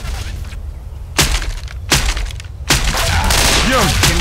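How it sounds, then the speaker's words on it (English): Left 4 Dead 2 gunfire in co-op play with teammates hitting each other, heard as three loud sharp shots spaced about a second apart, followed by sustained noisy game action with a faint voice underneath. "can we stop shooting each other?"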